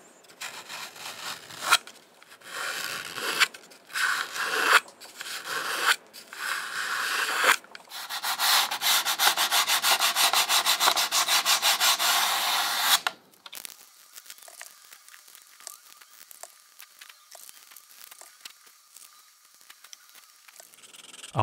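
Violin bass bar wood being refined by hand sanding, with bursts of rubbing strokes, then a long steady stretch of sanding before it quiets to faint scraping; close and fairly loud, no talk.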